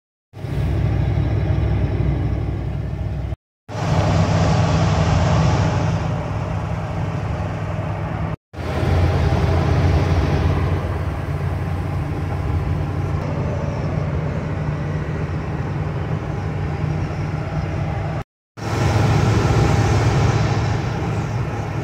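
A campervan driving on the road, a loud steady low engine rumble and road drone inside the cabin, broken by a few brief cuts but otherwise continuous.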